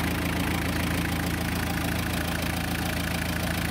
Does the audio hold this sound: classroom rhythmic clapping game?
no